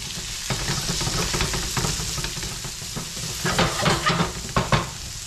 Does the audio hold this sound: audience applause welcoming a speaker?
no